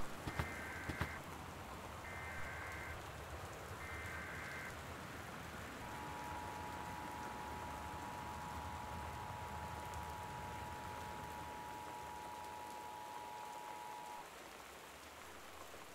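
Steady rain hisses and patters during a stormy night in the game Gone Home. Three short electronic tones sound, then a long steady alert tone plays over the downpour.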